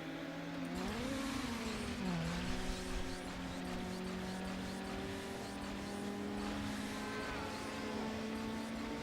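Car engine held high then surging with nitrous in Need for Speed Underground on PlayStation 2, a steady droning whine that rises and dips in pitch, fairly quiet and continuous with no talk.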